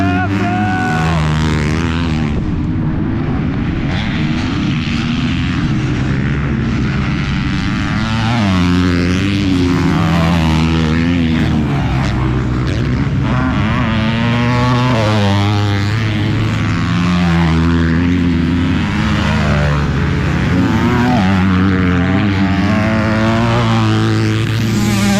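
Motocross dirt bikes racing around the Unadilla track, a loud, continuous buzzing engine drone rising and falling as riders rev through the course, with commentators talking over it throughout.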